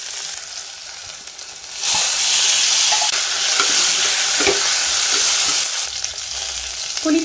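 Spices sizzling in hot oil in a pan for Tamil kuzhambu curry, with a pinch of asafoetida added: a softer fry at first, then a loud, steady, crackling sizzle with occasional stirring clicks and no talk.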